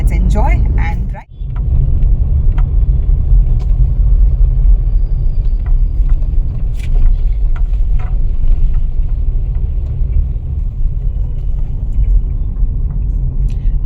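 A car drives on a road with a steady, close cabin rumble and engine drone that runs throughout, broken by one brief dip near the start, while people talk inside.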